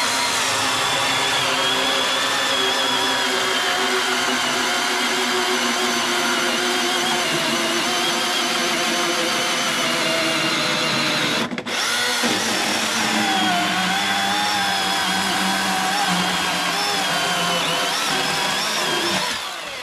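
A Milwaukee electric chainsaw whirs loudly and continuously as it cuts through 8x8 timber at a sawmill, with a brief break midway before the motor resumes and bites in again.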